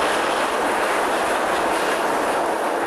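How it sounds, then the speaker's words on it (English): Roller coaster train at Disneyland Paris hauled up a chain lift hill by hooks under its four wagons, giving a steady, loud mechanical clacking rumble that runs continuously, with no talk. "He's taken onto the chain, which hauls up the train by virtue of hooks, which are underneath each of 4 of the wagons, and it makes a lovely mining clacky sound"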